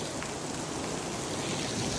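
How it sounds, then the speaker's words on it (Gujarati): Heavy rain pours steadily over a village, a dense, even hiss of drops hitting surfaces that stays constant and close throughout, with no voices. "આજે અમારે વારો પડી ગયો છે વરસાદનો"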